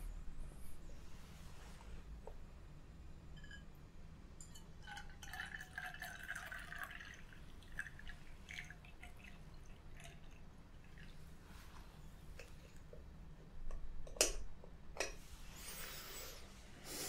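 Hot honey-colored tea poured from a pot into a cup aboard a first-class train, a soft trickle and drips with faint glassy clinks against steady low rumbling, quiet and close, without talk.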